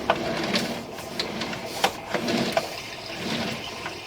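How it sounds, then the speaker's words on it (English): Water rushes and gurgles through a 4-inch clay sewer pipe in a muffled, continuous flow, broken by occasional knocks and clicks. "Actually, someone's using a lot of water now."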